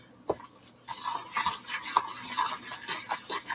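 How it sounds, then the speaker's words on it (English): Holiday chocolate mixture being stirred in a bowl, a spoon scraping and clinking against the sides in a steady, close run of strokes with no talking. "And you just mix it up."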